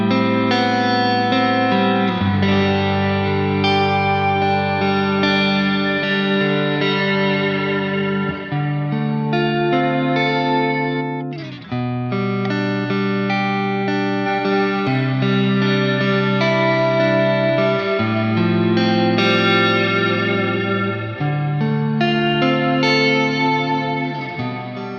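ReMatrix convolution reverb with a modulation stage applied to sustained musical chords, giving a dense, continuous wash of harmonically rich tones that swell and shift with slow movement, a brief dip near the middle before the chords resume.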